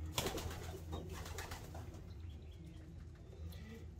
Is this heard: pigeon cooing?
yes